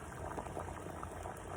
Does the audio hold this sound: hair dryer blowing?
no